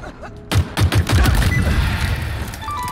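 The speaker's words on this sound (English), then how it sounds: "There are gunshots, okay." Gunfire in the video game Halo Infinite, a quick burst of several sharp shots followed by a sustained rattling volley over a noisy background.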